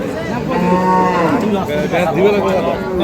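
Cattle low loudly and close by at the Ambari haat, a livestock market selling Sahiwal, Sindhi and local breed dairy cows and calves, with overlapping drawn-out moos over a faint crowd murmur.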